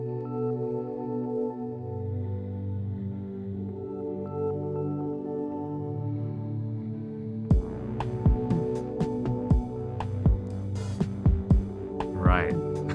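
The bass music track opens on a low, droning, buzzing bass and hum, then sharp percussive hits and a dirty, edgy electronic sound enter with a steady, punchy rhythm.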